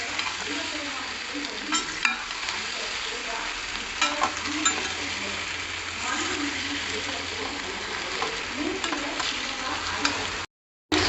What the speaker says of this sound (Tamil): ஊறுகாய் நல்லா சிம்மில் பாருங்கள், நல்லா ஆயில் தெரிஞ்சு வெந்துட்டுருக்கு.